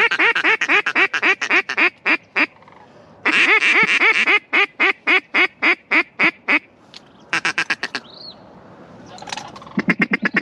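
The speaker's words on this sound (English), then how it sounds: "I think it's a mallard." Mallard ducks, including a drake, quack loudly and close by in repeated rapid bursts of harsh calls at a Wisconsin duck hunt, with short pauses between runs and a few fainter calls near the end.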